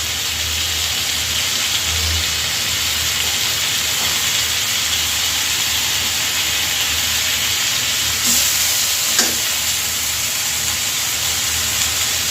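Sliced onion with ginger and garlic paste fries in a pan for a fish curry with teasel gourd, making a dense, loud, continuous hissing sizzle with a couple of brief knocks.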